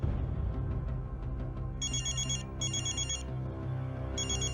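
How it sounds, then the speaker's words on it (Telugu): A telephone rings in repeated electronic bursts over a steady low musical background in a narrated drama, with no speech over it. "ఆమెకు ఫోన్ వచ్చింది"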